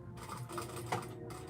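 A sewing machine stitches along either side of a zipper on a girl's dress, a brief, soft, close run of rapid needle strokes.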